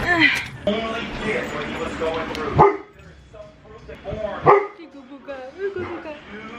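A dog nearby gives a few sharp barks and yips, broken by short growly whines, with a person talking in between.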